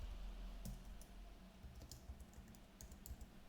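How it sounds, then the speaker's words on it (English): Command being typed on a computer keyboard at a Linux terminal, a few sparse key clicks over a steady low hum and background noise, no talking. "let's type in sudo user add John"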